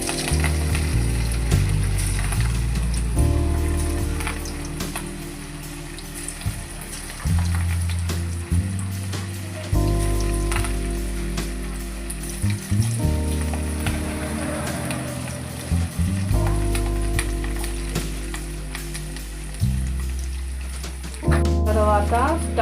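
Chicken pakodi batter fries in hot oil at home with a constant crackling sizzle. The frying runs throughout, with a voice talking over it at intervals.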